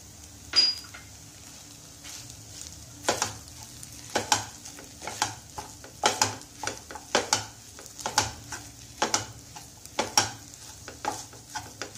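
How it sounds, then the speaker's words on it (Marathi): Grated coconut is stir-fried with broken wheat for kheer, with repeated sharp scrapes and taps of a spatula against the pan in an uneven rhythm over a low, faint sizzle, close and with no talking. "आता यात आपण खवलेला नारळ घालूया आणि परत परतूया."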